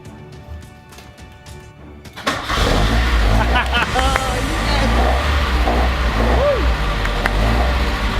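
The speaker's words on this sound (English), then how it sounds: "Let's see if this Alfa will start" An Alfa Romeo car engine, fitted with a new starter motor, cranks briefly and catches, then settles into a steady, loud idle running close by.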